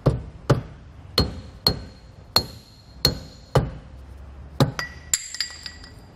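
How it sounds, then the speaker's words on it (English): A rubber mallet taps a hub cap off a Dexter trailer hub and drum assembly: about eight evenly spaced, sharp hits with a metallic ring, followed by a few lighter clinks at the end. "we can do this actually just with a rubber mallet. Just kind of tap it on the side there."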